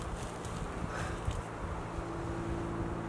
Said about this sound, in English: The wind just keeps picking up.